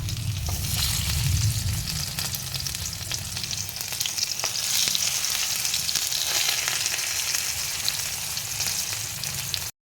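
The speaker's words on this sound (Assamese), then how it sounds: "এতিয়া সানি লোৱা বন্ধাকবি টুকুৰাখিনি মই তেলত অকণমান ভাজি ল'ম ৰঙচুৱা হোৱাকৈ।" Cabbage pieces fry in hot oil in a pan with a continuous close sizzle and crackle, an occasional stir or scrape, and no talking.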